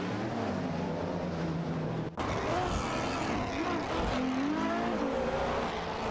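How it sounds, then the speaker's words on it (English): Video game racing with a Peugeot 207 GTI and an Infiniti Q50 at Eau Rouge, a continuous loud engine drone with rising and falling pitch and a brief dropout partway, without talking. "Everlasting Apex and Sputnik NZ are locked in a thrilling battle for P30 in their Peugeot 207 GTI and Infiniti Q50 Eau Rouge respectively"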